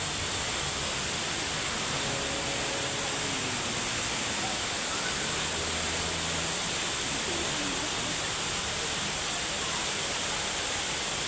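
A waterfall in Antipolo pours with a constant, loud, broadband rushing hiss that fills the whole clip without pause.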